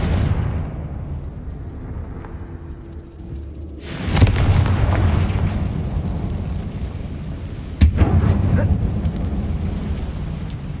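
Hogwarts Legacy spells Bombarda and Confringo going off inside an abandoned mine, two loud booming blasts several seconds apart, each followed by a rumbling, crackling tail over a low steady background hum.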